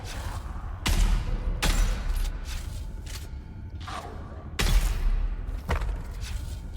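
Gunfire in the video game Dune Awakening, with several sharp shots and thuds at irregular intervals over a dull ambient rumble, fairly loud and close, no talking.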